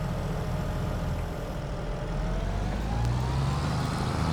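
A cotton spreader machine working a field in a farming video game runs with a steady low engine rumble and drone that stays constant and moderately loud throughout, with no voices.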